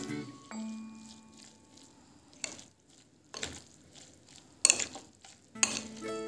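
A mayonnaise, onion and tomato sandwich mixture is stirred in a bowl, heard as scattered bursts of wet scraping and clinks between quiet pauses, close and soft.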